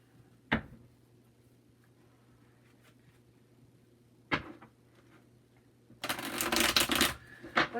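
Oracle card deck being shuffled by hand, a dense rustling riffle building near the end after two short taps, close and fairly loud with no talk.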